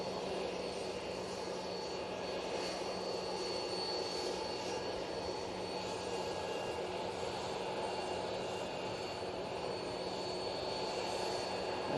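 An Aer Lingus airliner bound for Dublin passes overhead at Manchester Airport, a steady distant jet-engine rumble and whine that stays even throughout, with no voices.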